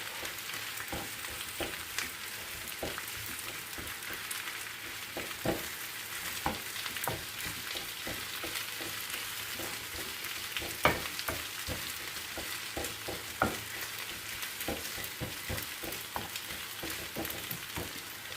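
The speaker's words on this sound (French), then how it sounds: "Donc je vais mettre une bonne poignée d'épinards. Et on va les laisser cuire tranquillement sur feu doux." Spinach cooks gently in a pan over low heat, giving a soft, steady sizzle with scattered small pops and occasional stirring clicks, close but quiet and without speech.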